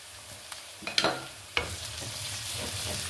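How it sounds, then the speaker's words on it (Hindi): Garlic-ginger paste sizzles as it fries with lightly golden onions in a pan for aloo gobi, a steady crackling hiss broken by a few sharp clinks and scrapes of a stirring spoon, close and without talk. "अब हम इसमें लहसुन अदरक डालेंगे 1 टेबल स्पून।"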